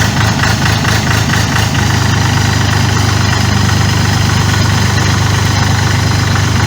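An Orion RF244 tractor engine idles loudly and close by in freezing weather, a steady low diesel chugging with a knocking rhythm that smooths out after a moment.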